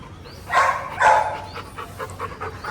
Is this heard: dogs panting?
yes